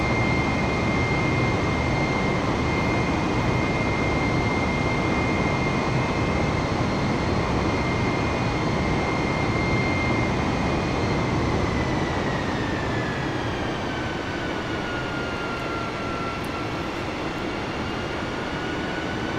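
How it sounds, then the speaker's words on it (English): Airliner jet engines in Microsoft Flight Simulator 2020, climbing out of London Luton, make a loud, steady roar with a whining tone that drops in pitch partway through as the thrust powers back. "you can hear the engines powering back a little bit now as we start to approach our initial clearance altitude of 10"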